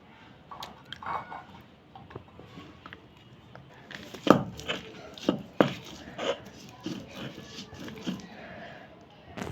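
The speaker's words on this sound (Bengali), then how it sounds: "এখন আমি কাঁঠালের বিচিগুলো বেটে নেব" Soaked, softened jackfruit seeds are crushed and ground on a grinding stone, giving irregular close knocks and wet squishing scrapes that grow louder and denser partway through, with a few quiet voices underneath.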